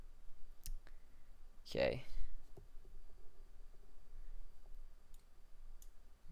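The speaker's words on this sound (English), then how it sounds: "just click submit again" A few soft, sparse mouse clicks sound close and quiet in a Windows app, separated by pauses, with one short spoken word and faint background hiss.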